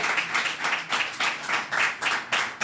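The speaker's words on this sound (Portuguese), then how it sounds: "Ofereço mais 30 segundos para concluírem os aplausos" An audience claps in rhythmic, pulsing bursts of applause, swelling and easing roughly every half second, fairly close and sustained throughout, with no talk over it.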